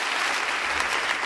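Audience applause at a Turkmen stage show, a dense, steady wash of many hands clapping close and loud throughout, with no pauses.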